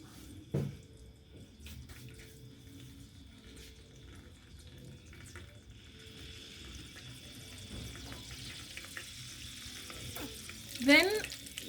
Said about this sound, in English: Then you fry your meat.